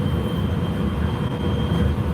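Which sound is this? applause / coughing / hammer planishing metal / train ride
train ride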